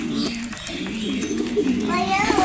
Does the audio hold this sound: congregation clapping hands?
no